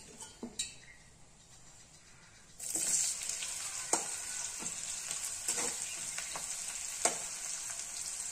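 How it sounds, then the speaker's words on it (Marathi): Finely chopped onion and cumin seeds hit hot oil in a kadai, a few spoon taps first, then a sudden loud sizzle that keeps going steadily with occasional clinks of a stirring utensil. "कांदा जरासा ब्राऊन होईपर्यंत भाजून घ्यायचा आहे छानपैकी"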